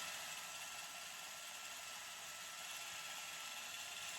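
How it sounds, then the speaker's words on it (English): An electric drill runs steadily in reverse, twisting silver wire held taut, a continuous whirring mechanical hum with no pauses or speech. "I'm just going to run the drill. I have it on reverse actually"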